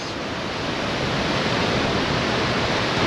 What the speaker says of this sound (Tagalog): You see these falls?